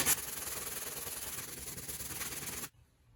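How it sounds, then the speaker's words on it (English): Steady, rhythmic sanding scrapes across body filler on a 1975 Triumph TR6 at close range for a few seconds, then stops abruptly. "So now I'm gonna start sanding it"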